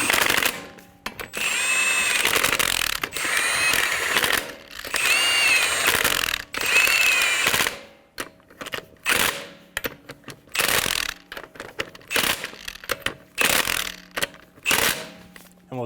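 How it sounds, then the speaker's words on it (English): Ratchet wrench snugging down the lug nuts on a front wheel of a 2007-2011 Toyota Camry, loud close-up bursts of rapid clicking broken by short pauses and repeated several times, with no talking. "Snug down the lug nuts."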